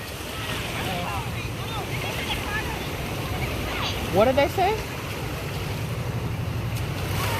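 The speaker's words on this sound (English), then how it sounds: "The waters are getting a little rough, aren't they?" Ocean surf at a beach during a family day, a constant rushing wash of waves with wind buffeting the microphone, while people talk nearby.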